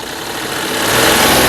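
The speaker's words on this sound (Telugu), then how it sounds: "ఇంజన్ యొక్క నాయిస్ చాలా సైలెంట్గా అయితే ఉంది ఇంజన్ ఎక్బార్ రేస్" A 2016 Mahindra TUV300 T8 engine runs close by, its steady mid-pitched hum swelling louder over a second and a half as it is revved, with no voices.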